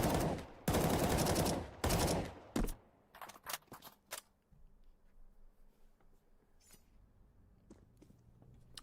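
Rapid automatic rifle fire in Counter-Strike 2, a dense burst of loud shots that empties a full magazine in the opening seconds, then scattered sharper clicks and distant pops fading into quiet room tone.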